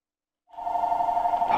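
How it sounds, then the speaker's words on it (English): A telephone rings indoors during a Meat Boy flash game session, a steady bright electronic bell tone starting after a brief silence and sustaining loudly to the end, with no talking. "the phone's going off"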